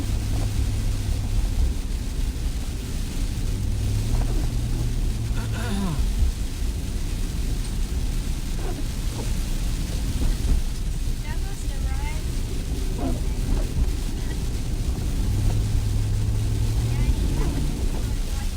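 A car drives slowly along a slushy rural road near Saylorville, Iowa, in wet rain and snow, its tyres hissing and splashing steadily under a low engine rumble and wind noise, with someone talking throughout.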